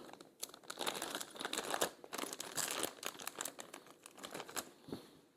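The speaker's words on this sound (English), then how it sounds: "Get little Allen keys out of the box." Small Allen keys being pulled from a box, with close crinkling and rustling of packaging and light plastic clicks and taps throughout, no voices.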